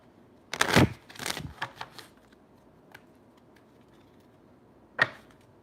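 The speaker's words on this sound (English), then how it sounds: "Did I shuffle these wrong?" Tarot cards being shuffled, a quick burst of riffling and flicking card sounds, close and fairly crisp, followed by a few softer taps and one sharp final snap of the deck.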